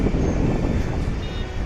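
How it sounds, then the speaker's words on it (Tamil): Wind blowing at a beach seen from a high viewpoint rushes as a loud, steady, rumbling buffet against the microphone, brief and unbroken, with no talk. "காற்று சும்மா சிலு சிலு சிலு சிலுன்னு வருதுங்க."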